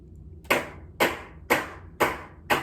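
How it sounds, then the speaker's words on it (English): Five crisp, bright handclap samples land at an even half-second pulse, each with a short decaying tail, slightly staggered off the beat and spread wide in a music mix, heard alone and close. "so now the claps are just enough staggered that they're off the beat"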